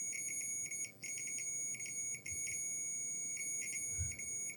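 A continuity tester beeps on the contacts of a game cartridge. Its high, clear electronic tone sounds in quick, irregular bursts that cut in and out as the contact flickers, steady and close up.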